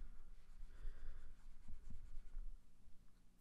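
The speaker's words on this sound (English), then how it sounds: "let me just erase this" Erasing a board after working a quadratic factoring problem in a math lesson: soft, faint rubbing and scuffing strokes with a few light taps, quiet and close, with no talk.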